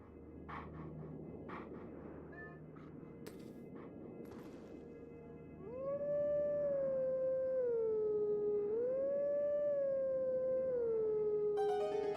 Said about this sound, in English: the howling tunes are apparently location specific